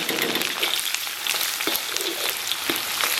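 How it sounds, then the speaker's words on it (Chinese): Scallion, ginger, garlic and dried chili sizzle in hot oil in a wok, a continuous bright crackle with scattered popping spikes, close and loud, with no talking. "咱们给锅里边稍微来点油， 油温3、4成热，咱们把葱姜蒜干辣椒给它下里边"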